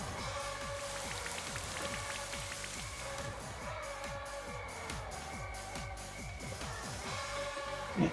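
Rain Dance rain effect in a Pokémon video game battle, a continuous patter of falling rain with a steady repeating pulse beneath, carrying on evenly with no talking.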